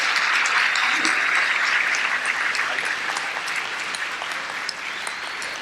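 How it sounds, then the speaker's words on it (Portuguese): An audience at a public-service policy panel applauds its teachers and trainers, a steady, full wash of clapping that carries on evenly without pause and eases slightly near the end. "Quero pedir uma salva de palmas para todos os professores, os nossos formadores."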